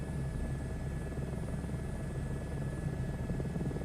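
A helicopter in Microsoft Flight Simulator 2024 flies over Yellowstone with a constant close rotor drone and engine buzz, steady and loud throughout with no voices.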